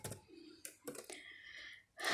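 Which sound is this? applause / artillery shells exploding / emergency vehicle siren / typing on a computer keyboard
typing on a computer keyboard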